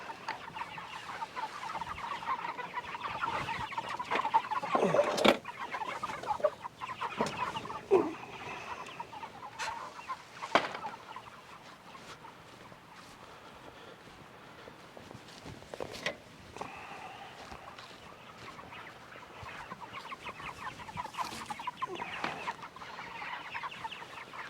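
Chickens cluck in a low, steady flock murmur during the first chicken move of the year on a farm, fairly faint and continuous, with no one talking.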